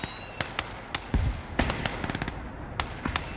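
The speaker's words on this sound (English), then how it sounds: "Mortar's still firing" Mortar fire in the World War II game Gates of Hell: Ostfront. Scattered sharp thumps and crackling blasts, some near and some distant, pop irregularly over a low rumble of battle ambience.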